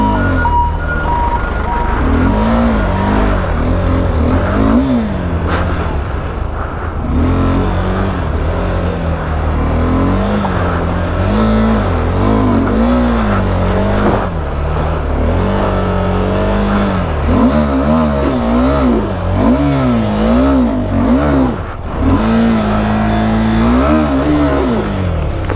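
An off-road motorcycle crossing a stream in Zanskar Valley revs loudly and continuously, its engine rising and falling in repeated surges up close.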